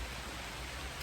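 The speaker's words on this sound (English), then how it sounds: "it's raining a lot" Heavy rain pours down in a dense, steady hiss with a low wash underneath, unbroken and fairly close throughout.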